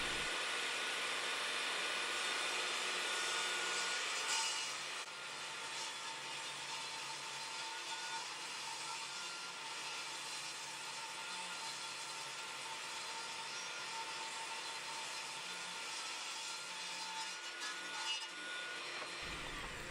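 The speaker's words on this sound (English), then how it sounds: "I use my table saw to square up the longest edge" A table saw cuts a wood slab for a guitar body, squaring its longest edge: a continuous loud, close whirring rip with the blade under load, easing slightly partway through and stopping at the end.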